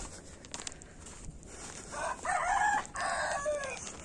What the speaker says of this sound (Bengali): মুরগিও ডাকছে সাথে।